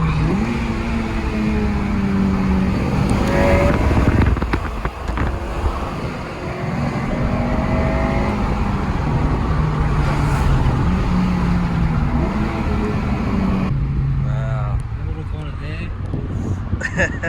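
Inside a Honda Civic FN2 Type R driven hard in third gear over bends, the engine note rises and falls with gear changes under wind buffeting, while someone talks excitedly over it.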